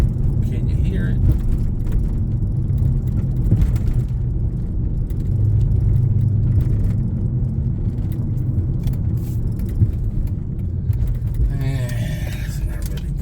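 A 2005–2010 Dodge Chrysler LX car with a worn wheel hub drives along, a steady low road rumble and cabin drone from inside, with brief faint rattles near the end.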